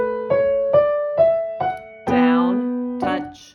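Solo piano plays the opening of Bach's Minuet in G with slurred articulation, a short phrase of six clear, connected notes ringing into one another, close and bright.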